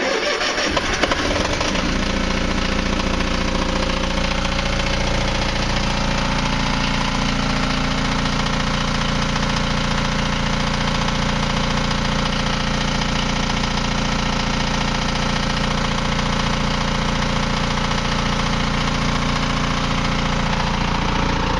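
An engine catches right after its fuel is turned on and then runs at a steady, fairly loud idle with an even mechanical drone for the rest of the clip, with no voices.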